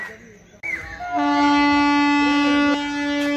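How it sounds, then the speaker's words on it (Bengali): A train at Dayat station on the Nabadwip to Murshidabad line sounds its horn in a loud, sustained blast that holds steady for about two seconds after a brief rumble, heard close by on the platform. "যে ট্রেনে হর্ন মারলো, ট্রেন এখনই ছাড়লো"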